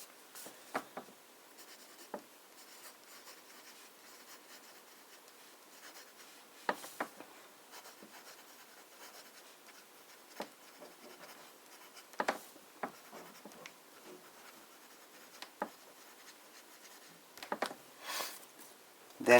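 Medium nib fountain pen writing on paper, a quiet close scratching with soft strokes and brief sharper ticks spread irregularly over the passage, alone without talk.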